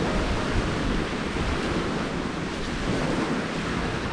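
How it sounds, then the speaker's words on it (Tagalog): Ocean waves washing onto a secluded beach at a campsite, a continuous broad rushing surf mixed with wind buffeting the microphone, steady and loud throughout with no voices. "I hope the waves are not masking my voice"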